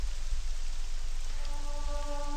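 Rain falls steadily in the Morrowind video game, a constant hiss of drops, with a faint tonal game sound entering partway through.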